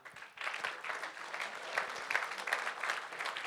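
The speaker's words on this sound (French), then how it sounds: "Bravo, vous pouvez les applaudir." Audience at a student project award ceremony on a Rouen campus breaking into sustained, dense applause that swells and holds, heard from within the room.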